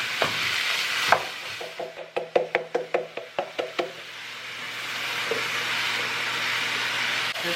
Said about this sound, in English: here we have our chopped onions. We're gonna start to be cooking this